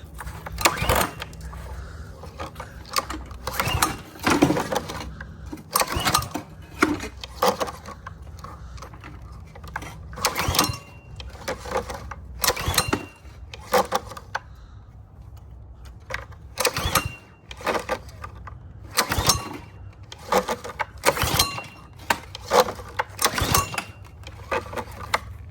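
A Honda GCV190 small engine is cranked for a cold start at one degree with the choke on, giving repeated short bursts of pull-start cranking and sputtering spread across the stretch, separated by quieter pauses.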